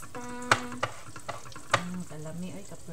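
A utensil scrapes and clinks against a pan while a tortang talong eggplant omelet mixture is stirred as it fries, with a few sharp taps over a steady soft sizzle and a faint voice in the background.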